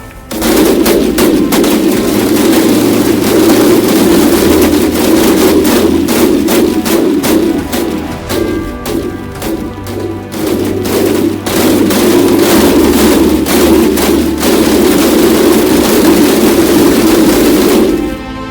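A massive chain of TNT blasts tears through a city in a block-building video game, producing a loud, dense, continuous crackle of rapid explosions that barely pauses.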